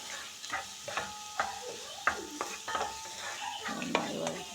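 Onions sautéing in a pan while being stirred, a close, continuous sizzle broken by repeated scraping and clinking strokes of a utensil against the pan at a steady, uneven rhythm, with no talk.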